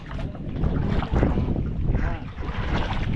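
A repaired boat engine runs steadily at close range, its dense low rumble mixed with wind buffeting and splashing water, with a few faint voices underneath.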